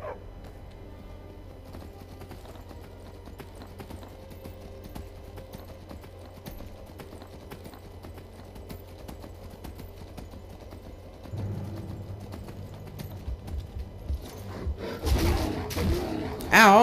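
Horse hooves clip-clop steadily at moderate distance in the video game Skyrim, an even rhythmic patter over a low ambient bed that swells louder and busier toward the end.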